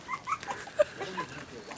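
A puppy whimpers in short, high, soft yelps and whines close by, a quick broken run of small cries.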